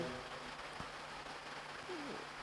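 Steady rain hissing on surfaces outside during a religious study gathering, a constant wash of falling drops with a faint bird call and a soft thud in the background.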